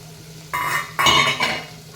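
A lid goes onto a pan of cooking in a home kitchen: two or three close metallic clinks and rattles as it settles, over faint background hum.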